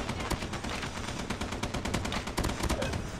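Dense, continuous RUS-79U submachine gun fire in a Call of Duty match, loud and close, with rapid overlapping shots filling the whole moment.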